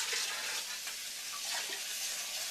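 About a cup of water hits a hot cooking pan on medium heat while it is being cleaned, giving a steady, hissy, sizzling splash that runs unbroken at close range with no voices.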